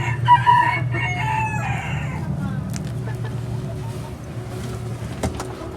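Silver Brakel hens give a rooster-like crow and clucks near the start, then a low, steady background hum carries on with scattered faint knocks.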